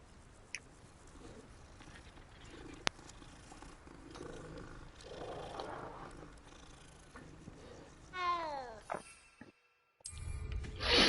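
A cat purrs in the video game Hogwarts Legacy, a faint steady low rumble under game ambience with scattered bird-like chirps, a sharp click, and a rising magical sweep near the end.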